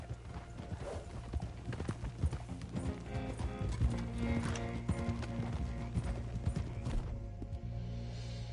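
Horse hooves clip-clop steadily through a video game scene, with an occasional whinny and faint mechanical clanks under a constant low background tone.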